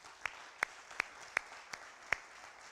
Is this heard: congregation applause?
yes